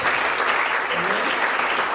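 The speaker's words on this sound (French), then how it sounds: "Sous vos applaudissements." Audience applause at a Bible contest fills the whole stretch with dense, steady clapping from many hands, a murmur of voices blending underneath.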